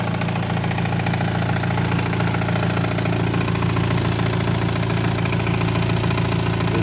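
BMW X3 engine idling with a noisy, rattling AC compressor, a steady close mechanical drone with a fast, even clatter running through it, loud and constant, with no voices.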